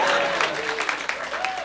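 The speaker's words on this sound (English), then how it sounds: "Yep, you can applaud for that." Audience at a comedy show clapping in a short burst of applause, a crowded patter of hands under scattered vocal sounds from the room.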